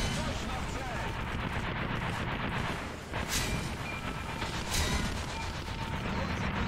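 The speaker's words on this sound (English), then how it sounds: "They're just gonna machine gun me to death." Rapid, sustained machine gun fire in War Thunder, dense rattling bursts running throughout with a brief dip partway, mixed with game noise and a voice talking over it.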